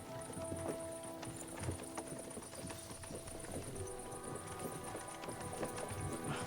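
Horses pulling a carriage clip-clop steadily through a busy, dense mix of sound, hoofbeats close and continuous with a high repeating ticking overhead.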